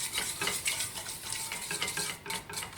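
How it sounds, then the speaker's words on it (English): A whisk works steadily through a lumpy white roux sauce in a pan, giving rapid, soft rhythmic scraping and swishing up close at a quiet level with no voices. "Keep on whisking."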